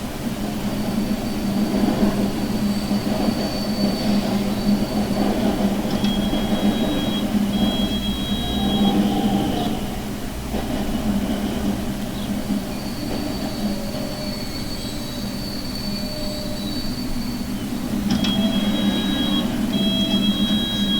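A Metropolitan line train running in Transport Fever 2, with a steady rumbling roll, thin high wheel squeals drifting in and out, and occasional clicks over the rails, loud and continuous.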